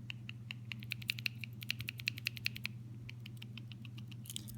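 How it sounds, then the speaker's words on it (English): A small ball rattling inside a Rapala BX Minnow fishing lure as it is shaken, quick light clicking bursts heard close and quiet. "You can hear like a ball that's in there"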